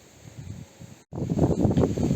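Strong wind gusting outdoors in a vegetable garden with strawberries and pumpkins after days of gale, a low rushing roar that is fainter at first, drops out briefly, then blows louder and fuller.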